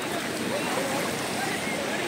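Sea waves wash steadily while a jet ski is pushed into the water, a continuous broad surf rush with no distinct breaks, and faint voices beneath.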